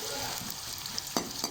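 Onions lightly frying for chicken pulao, a steady soft sizzle with a couple of faint stirring scrapes and clinks, close and quiet with no talk.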